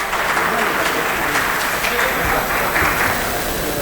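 An audience gives loud, steady applause to welcome a journalist and women's rights activist onstage at a student association event, a dense sustained wash of clapping with some crowd noise mixed in.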